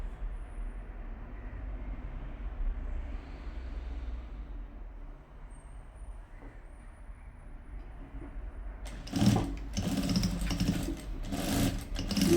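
A sewing machine stitches a saree blouse, running steadily at low level through most of the stretch, then louder, denser bursts of stitching near the end, with no talk.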